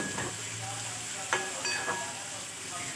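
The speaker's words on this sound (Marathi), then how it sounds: "तर छान मऊसर कांदा शिजवून घ्यायचा आहे." Onions sizzle softly in a hot kadhai as they cook until soft, with a few scraping stirs of a spoon breaking the steady frying hiss.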